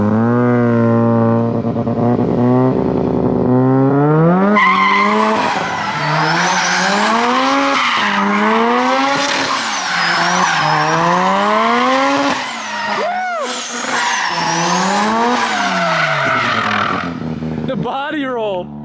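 A Datsun fitted with a 13B rotary engine doing donuts, its buzzing rotary note rising and falling in repeated sweeps as tires skid and squeal, loud and close throughout, with brief voices underneath.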